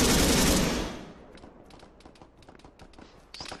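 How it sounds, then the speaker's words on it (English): Gunfire in the Arma 3 video game: a loud burst of rapid shots at the start decays into a scatter of fainter distant cracks and taps, with another sharper shot near the end. "still a lot of gunfire nearby, so there's definitely some enemies around here somewhere"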